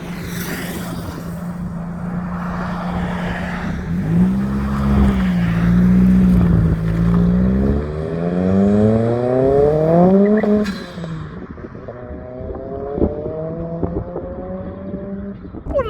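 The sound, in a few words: restored Ford Escort MK1 RS car driving past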